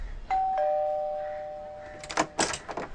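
A doorbell at an apartment door gives a two-tone electronic ding-dong that rings out and decays slowly, followed by faint knocking or door handling noises, fairly quiet.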